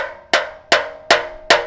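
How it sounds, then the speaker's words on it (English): Four evenly spaced, ringing hammer strikes land on steel to flatten a lump on a rear bash bar, each a sharp metallic clang with a bell-like decay, close and loud. "There's a lump right here. Let me see if I can hammer it down a little."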